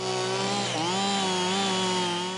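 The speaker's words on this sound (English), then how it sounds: "Time to fire up the chainsaw." A chainsaw engine roars loudly and close, its pitch dipping briefly then revving back up to a steady high whine.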